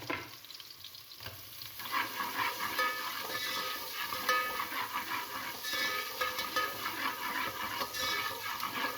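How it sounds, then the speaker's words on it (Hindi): Garlic frying in a pan at home, a steady sizzle with intermittent stirring scrapes running throughout, fairly close and continuous. "लहसुन को कर रही हूँ फ्राई"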